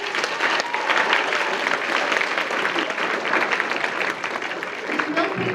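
A live audience claps in a steady, dense round of applause that carries for several seconds at an even level, heard close and without talk over it.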